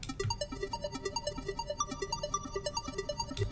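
The AP Ping Pong arpeggio preset from the Hive synth plays a quick, evenly pulsing run of plucky notes bouncing across pitches, soft and alone for several seconds.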